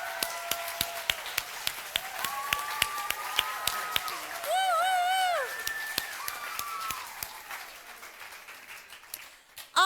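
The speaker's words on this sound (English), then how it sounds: "let's give them a good round of applause." Audience applause at a school sports awards ceremony for the coaches and managers, steady clapping from a crowd throughout, with whistle-like tones and a brief cheer in the middle.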